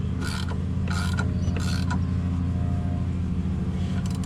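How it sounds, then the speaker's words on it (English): Gear puller slipping off the crankshaft pulley of a junkyard golf cart engine, giving a few short metallic clicks and pops over a steady low mechanical rumble, close by. "Pulley didn't pop loose, it just popped the puller off."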